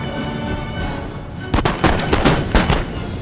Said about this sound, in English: They all fire at once, and then they send their 2, and they charge me with them.